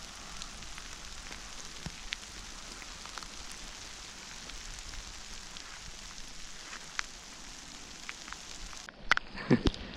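Heavy rain pours outdoors on Menorca, a dense, steady hiss lasting throughout, with a few louder knocks and clatters close by near the end.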